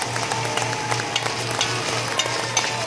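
Chicken wings fry in hot oil toward golden brown, a close, even sizzle with light crackles and occasional stirring scrapes, accompanied by a soft rhythmic hum underneath.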